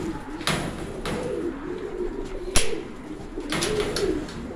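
Pigeons in a loft cooing steadily, with soft repeated coos layered over a close, continuous low hum and a few sharp knocks or door bumps.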